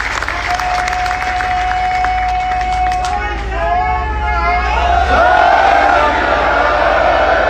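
Crowd at an outdoor rally in Punjab clapping and cheering, a dense wash of applause that swells louder over the last few seconds, with a brief steady tone and scattered voices early on.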